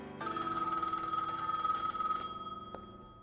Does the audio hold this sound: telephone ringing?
yes